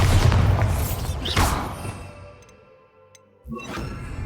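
Avada Kedavra spell cast in the game Hogwarts Legacy: a loud booming whoosh with a crackling burst, fading into a quieter tail, then a second sharp impact near the end.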